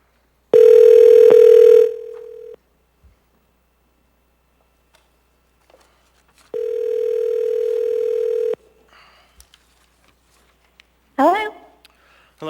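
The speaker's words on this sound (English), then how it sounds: "We'll go ahead and make a phone call." A telephone dial tone sounds twice while a phone call is placed during a city assembly meeting, each a loud steady tone of about two seconds separated by silence, followed by faint clicks and a brief voice near the end.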